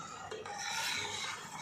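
Nombu kanji, a rice porridge, is stirred in a pot, producing a soft, continuous scraping rasp at close range with no talk.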